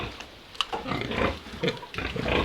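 In a pig shed, pigs grunt nearby with repeated low, rough snorts and huffs over faint background noise.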